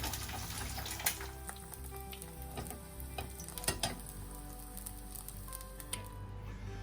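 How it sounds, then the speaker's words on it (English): A free-range egg sizzles and spits in hot fat in a pan, a steady close crackling hiss broken by a few sharper pops, with no voices over it. "So some nice hot fat. Nice free-range egg."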